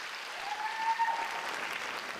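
Audience applauding teachers at a Canyons School District Teachers of the Year celebration, a dense, steady wash of clapping from a crowd, moderately distant and continuous, with no speech.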